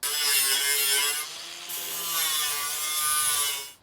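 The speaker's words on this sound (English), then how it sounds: "There's two spot welded flanges that I need to grind off somehow." An abrasive tool grinds off spot-welded flanges on a car boot floor, a loud steady high-pitched whine held for several seconds with a brief dip in the middle, close up and with no talking.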